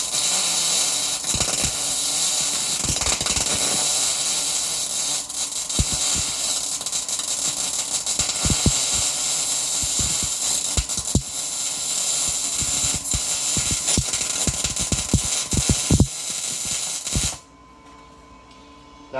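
A MIG welder runs close and loud with a steady crackling buzz broken by sharp, irregular pops as wind blows away the shielding gas, then it stops abruptly near the end.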